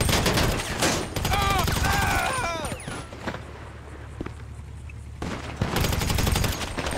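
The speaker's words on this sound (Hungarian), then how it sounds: "valaki lövöldöz?" Gunfire in a Los Santos video game, with bursts of shots crackling through a loud, busy mix that also carries voices and other game noise over seven seconds.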